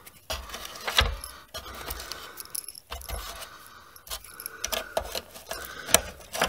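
A loose paper clip rattles and clatters inside an Electrolux Vitesse 1600W vacuum cleaner being cleaned out, giving busy, irregular metallic jangling and scraping that runs close and continuous with sharp clicks.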